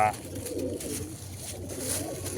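Pigeons on a rooftop coo nearby in low, rolling murmurs that run through the whole moment, with a voice faintly present alongside.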